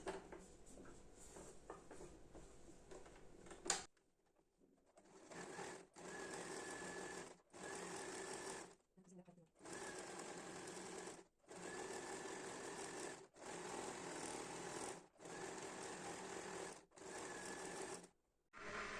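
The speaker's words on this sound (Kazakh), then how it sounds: "Енді бөлігімізді айналдырып тігетін боламыз." A sewing machine stitches around a piece of a turban in repeated bursts of steady whirring, each run a second or two long, separated by brief pauses, close and clear with no talking.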